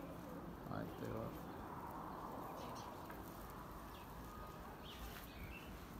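Pigeons coo softly in a rooftop loft, with faint low calls and a few chirps over a constant background murmur, distant and quiet.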